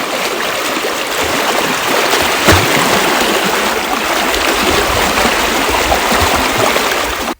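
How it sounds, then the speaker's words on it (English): Flowing creek water rushes and splashes steadily as a small boat moves through it in a Belize forest, a loud continuous wash up close that cuts off abruptly at the end, no talking. "It's fun riding around in the creek."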